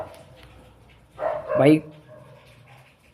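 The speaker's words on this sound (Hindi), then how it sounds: "कुत्ते बहुत भौंक रहे हैं" A dog barks outside in a short burst of two or three yelps, heard at moderate distance against a quiet indoor background, with a brief spoken word nearby.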